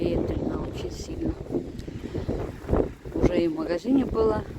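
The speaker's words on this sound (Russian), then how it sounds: "Ветрено очень сильно." Very strong, gusty wind buffets the microphone on a warm December day in Visaginas, Lithuania, roaring close and uneven with sharp surges, while people talk over it.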